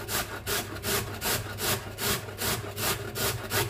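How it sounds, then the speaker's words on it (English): Raw carrot is grated for vegan chickpea burgers, a close rhythmic rasping of about a dozen even back-and-forth strokes against a grater, with no talk. "I'm just going to grate some carrot, because I want some texture to the falafel."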